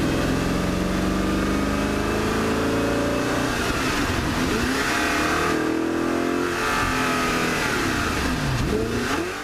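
A V8 in an Audi R8 revs hard, climbing in pitch toward 8,000 RPM, dropping back and surging again in loud, sustained sweeps with no talk over it.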